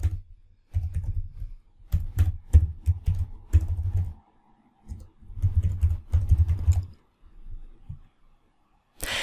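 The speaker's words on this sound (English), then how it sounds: "So let's type it in." Bursts of typing on a computer keyboard, close and clear, with quick clusters of key clicks separated by short pauses.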